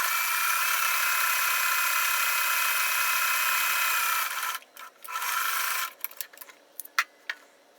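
A sewing machine runs steadily while top stitching a muslin quilt block, a close whirring hum that stops after about four seconds and then gives way to short bursts of stitching and clicks.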